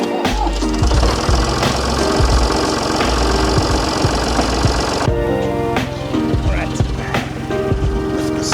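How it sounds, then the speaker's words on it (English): A farm tractor engine runs steadily at a knocking idle while pulling fence wire tight, its low rumble continuous and fairly loud throughout with some clanking, and no clear talk over it. "the tractor, they're going to pull it again, and then we nail it on"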